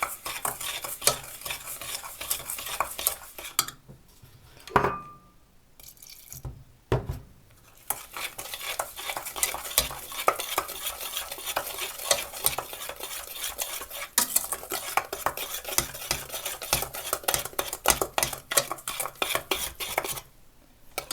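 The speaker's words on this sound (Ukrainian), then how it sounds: "все ретельно перемішати" Flour being stirred thoroughly into batter for a quick Napoleon cake, heard as loud, continuous scraping and clinking of a utensil against the bowl, with brief pauses and no talk.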